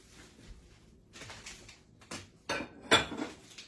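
Coleslaw is mixed with mayonnaise and sour cream in a bowl, giving a series of close, irregular utensil scrapes and clunks against the bowl, separated by short quiet gaps, with no talking.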